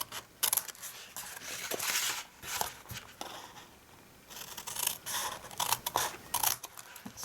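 Scissors snip through card pieces for a handmade Christmas card, giving a run of quick, close crisp cuts and rustles that pause briefly midway.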